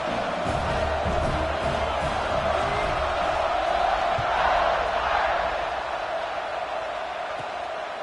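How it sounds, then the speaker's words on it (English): Stadium crowd in the NCAA 26 college football video game cheering at kickoff, a continuous loud roar that swells briefly in the middle before easing slightly, with whoops and shouts mixed into the wash. "this crowd is feeling themselves after that last drive"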